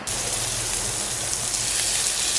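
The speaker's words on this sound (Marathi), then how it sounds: "सर्व बाजूने पाऊस लागतो" Heavy wind-driven monsoon rain in the Konkan falls in a loud, continuous rushing wash with a low rumbling undertone, steady and close with no one speaking.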